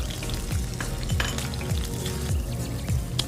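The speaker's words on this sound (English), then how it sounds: "I take some oil. I add a good 2 heaped teaspoons of chopped garlic." Chopped garlic fries in oil in a pan, a steady close sizzle with occasional stirring scrapes and faint spattering crackles, no voices.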